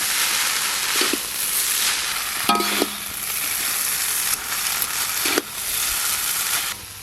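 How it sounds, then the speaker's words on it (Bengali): Boiled chow mein noodles stir-fried and tossed in a pan over a clay stove, a steady loud sizzle broken by several sharp scraping and clanking strokes of the spatula against the pan. "এবার সব কিছু একসঙ্গে খুব ভালো করে মিশিয়ে নেব।"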